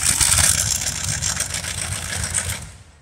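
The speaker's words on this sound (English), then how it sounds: "It's a Curtiswright R3350 18-cylinder." A Curtiss-Wright R3350 18-cylinder radial aircraft engine mounted on a pulling tractor roars loud and close in a steady, dense drone, then cuts off abruptly at the end.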